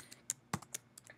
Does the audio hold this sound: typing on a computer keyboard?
yes